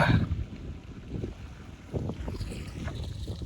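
Wind blows outdoors beside a new swimming pool under construction, a steady low rumble with gusty buffeting against the microphone, fairly loud and continuous, with no talking.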